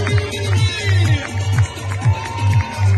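A crowd on the Brest pontoon greets sailor Guirec Soudée's arrival with loud cheering and shouting, swelling and dipping in a rhythmic, chant-like pattern.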